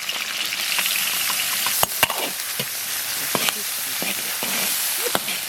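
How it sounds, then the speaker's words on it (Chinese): Scallion, ginger and garlic sizzle in hot oil in a wok with chili sauce, a steady close frying hiss broken by sharp clacks of a spatula stirring against the pan. "锅里留点油，下入葱姜蒜瓣，"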